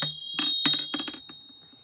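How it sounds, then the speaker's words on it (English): Metal chimes clatter as they drop, several quick jangling hits in succession, then a few faint tinkles fading out. "Oops, sorry, I dropped my chimes."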